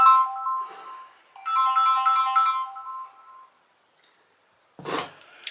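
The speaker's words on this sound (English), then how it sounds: "Phone call." Phone ringtone chimes in two melodic bursts of a repeating tune, clear and fairly close, then falls silent before a brief rustle at the end.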